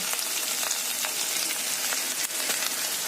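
Onions and grated ginger frying in a hot pan, a dense continuous crackling sizzle heard up close with small pops and faint stirring scrapes, no voices.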